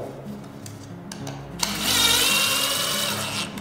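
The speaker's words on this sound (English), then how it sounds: "And then I'm gonna drill it into the door." A power drill bores into a wooden barn door being prepped for paint and distressing, its whine rising loudly after a quieter start and running steadily for a couple of seconds, close by.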